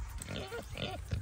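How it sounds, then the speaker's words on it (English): Big pig at an animal sanctuary grunting close by, a few rough low grunts in quick succession with no talk over them. "Julie, look at this big pig"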